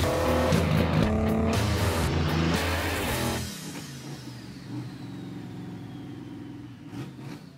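A supercharged big block engine in a Ford Crown runs loud and close on a dyno, roaring hard for a few seconds and then dropping back to a lower, steady idle-like drone.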